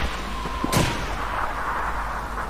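In the video game Call of Duty 2, a single loud explosion or gunshot bursts sharply amid a low battlefield rumble. A faint earlier crack precedes it and a hazy tail follows.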